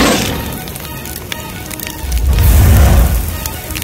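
A fire in a forest setting crackles and pops steadily, swelling into a louder low rumble of flames partway through, with no voices.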